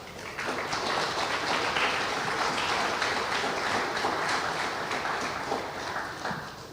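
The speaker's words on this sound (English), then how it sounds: "So let us please give a round of applause." A round of applause from the audience at a youth economy agency project launch: dense, steady clapping that swells quickly and holds for several seconds before easing slightly at the end.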